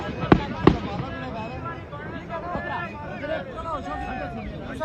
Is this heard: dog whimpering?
no